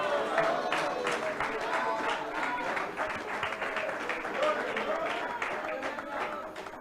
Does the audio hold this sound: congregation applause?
yes